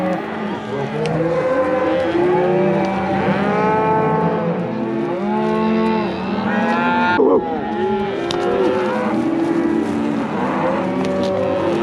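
Several cattle mooing loudly and repeatedly, long overlapping calls from a herd close by in deep timber, with no pauses between them.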